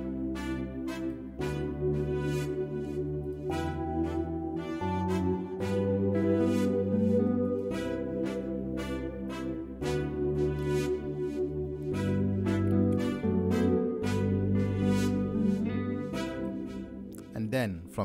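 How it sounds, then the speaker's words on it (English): A session horns counter melody played from a Kontakt 5 library in FL Studio within an Afro pop arrangement, brassy phrases riding over a steady beat with bass and percussion, moderately loud throughout. "These are session horns"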